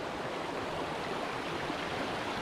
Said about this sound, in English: Absolutely beautiful, little river running through the forest.